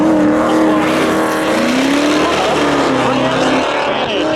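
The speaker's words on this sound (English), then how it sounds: "Scott Crosley in that black 1986 Pontiac Firebird, going up against Grant in that 1994 Pontiac Trans Am" Black 1986 Pontiac Firebird and 1994 Pontiac Trans Am roar side by side at spectator drags during a Memorial Day thrill show, loud sustained engine tones rising and falling in pitch over a continuous crowd and announcer wash.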